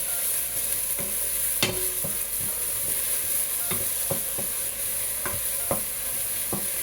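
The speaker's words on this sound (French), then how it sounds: "Je mélange." Fumbwa greens with smoked fish being stirred in a pot, a steady sizzle under occasional sharp utensil taps against the pot, close and even throughout with no talk.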